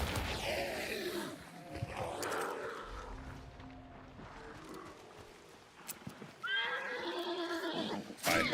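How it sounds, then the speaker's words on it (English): Horse neighing in a game setting, with whinnies at the start and a louder, closer whinny near the end, mixed with some hoof and background noise. "Bye bye, horsey."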